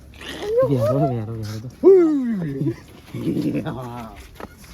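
A dog yelps and whines in a few short bursts close by, mixed with people talking and calling out.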